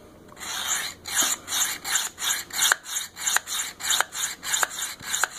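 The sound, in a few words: knife being sharpened on a Work Sharp Field Sharpener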